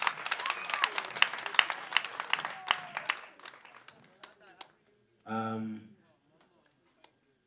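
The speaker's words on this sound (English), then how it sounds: "Can we give him a round of applause?" Applause from an audience at an event honouring Nollywood actors, dense clapping for about four seconds that thins out and stops, followed by a short burst of voices and a lone clap.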